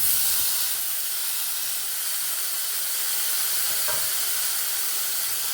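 Paneer cubes hitting a hot buttered pan for dhaba-style paneer butter masala give a loud, steady, steamy hiss that sizzles on without a break, with a faint clink near the end.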